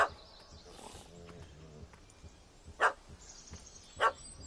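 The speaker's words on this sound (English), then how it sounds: "That gammy puss ran up a tree to escape that puppy." In The Witcher 3, a puppy barks at a cat that has fled up a tree: two sharp, loud barks, close by, spaced apart over quiet ambient game sound, with a brief voice-like murmur early on.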